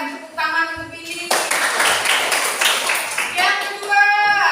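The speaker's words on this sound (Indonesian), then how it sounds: "Silakan tepuk tangan untuk Billy" A class of students claps for a classmate named Billy, a short burst of close, dense clapping between stretches of voiced talk, with speech before and after the applause.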